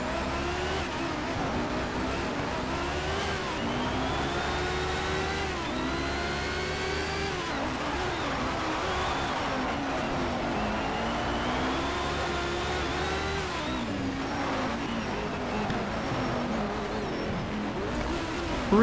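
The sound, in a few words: race car drifting in video game Need for Speed Shift 2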